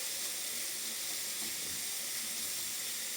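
Beetroot simmers in a pot with bay leaves, giving off a steady, soft hiss and gentle bubbling that carries on evenly without breaks.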